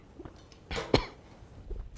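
A person with flu and a sore throat gives a single harsh, close cough followed by a brief sharp burst, with quiet room noise around it.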